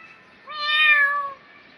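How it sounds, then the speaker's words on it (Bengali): A cat gives a single clear, close meow lasting about a second, rising and falling in pitch, in an otherwise quiet room. "আমার বিড়াল আসছে"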